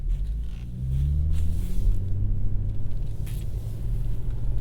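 A BMW M140i with a limited slip differential drones low and steady while sliding on a skid pan, its engine tone shifting in pitch as the revs change.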